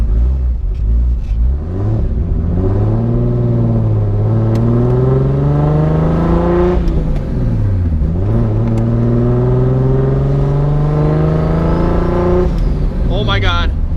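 Nissan 240SX S14 with a self-built RB26/30 engine accelerating from the driver's seat, loud rising revs with two distinct pulls and shifts, a brief dip before climbing again, with a voice talking over it.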